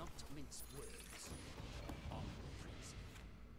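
Lock being applied to a card in the Gwent video game, a brief mechanical ratcheting clunk over steady background game music, with someone talking around it.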